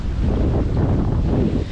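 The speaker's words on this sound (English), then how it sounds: "Now it's windy as hell" Strong wind blasts across the microphone on a tropical shoreline, making loud, continuous low rumbling and buffeting that fills the whole moment, with no voices.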